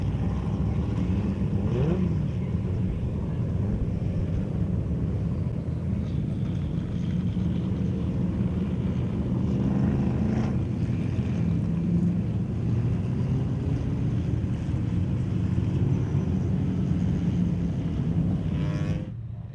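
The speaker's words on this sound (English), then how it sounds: "Watching these cars come now out of the dog bone section." Sports and saloon race cars circulate on a track's dog bone section, a continuous distant engine drone that swells and fades as cars pass, steady throughout with no voices.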